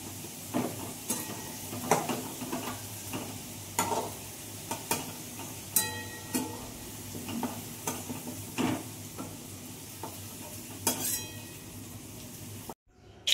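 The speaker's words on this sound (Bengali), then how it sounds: "এখানে বেগুনগুলো একই তেলে ভেজে নিচ্ছি" Eggplant pieces fry in oil in a pan in a home kitchen, with a steady sizzle under repeated scraping and stirring clinks of a utensil, close by and with no talk.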